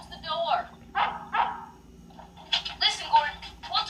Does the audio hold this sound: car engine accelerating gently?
no